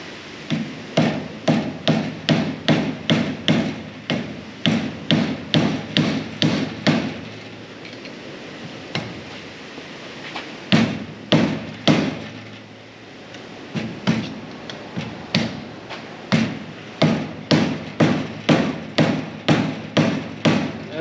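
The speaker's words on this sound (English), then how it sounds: "This is why you use the rubber hammer." A rubber mallet strikes a metal brake part on a 1966 Ford Mustang in a steady rapid series of dull thuds, close and loud, pausing briefly midway before the tapping resumes.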